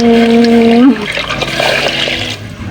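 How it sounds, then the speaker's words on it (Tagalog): Water is poured into a hot pan of steaming bangus (milkfish), a splashing, bubbling pour and sizzle following a brief tonal hum, fairly close and continuous. "Lagyan na natin ng tubig."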